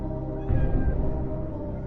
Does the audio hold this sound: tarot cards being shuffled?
no